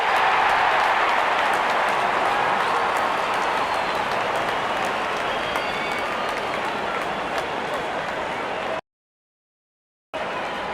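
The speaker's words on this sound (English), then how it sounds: "Openers walking in and the crowd cheering in anticipation" A cricket crowd cheers as the openers walk out for an India vs England match. The roar is broad and steady, filling the whole stretch before cutting out abruptly near the end.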